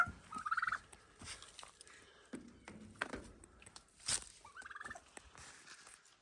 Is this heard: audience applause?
no